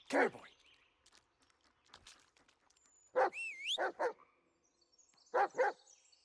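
A dog barks in the Blair Witch video game, a few loud sharp barks in separate bursts, one early, a pair midway and a final pair, with quiet gaps between.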